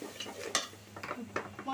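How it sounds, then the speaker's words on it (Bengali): Ground spices such as red chili powder and coriander are stirred and fried in a pan, with faint, irregular scraping clinks of a utensil against the metal over a low sizzle. "মশলাটা কষায় নিব ভালো করে।"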